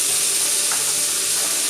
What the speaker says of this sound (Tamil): கூடவே 2 பச்சை மிளகாய் அதையும் போட்டு நல்லா வதக்கலாம்.